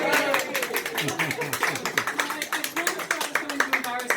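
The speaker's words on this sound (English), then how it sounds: "Let's give Bonita a round of applause." An audience at an art exhibition applauds Benita Stoney with brisk, steady clapping from many hands, close and lively throughout.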